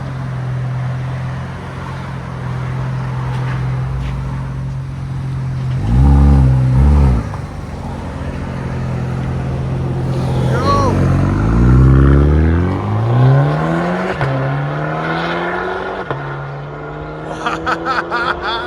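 A 2024 BMW X1 M35i with a 2.0L turbo launches hard with paddle shifts, engine revs climbing and dropping through several gear changes, loud and close at first, then pulling away, with a burst of crackle near the end.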